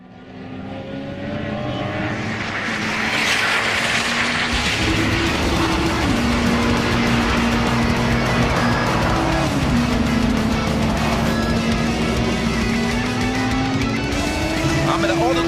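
A car running laps at the Auto Club Speedway in Fontana, California, its engine building to a loud, sustained drone with a wavering pitch as it accelerates and holds speed, heard up close.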